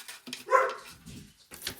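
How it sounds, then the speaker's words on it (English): Excited dogs barking nearby, a few sharp barks mixed with whiny yips and whimpers in short irregular bursts, with no talking over them. "my dogs are going crazy today"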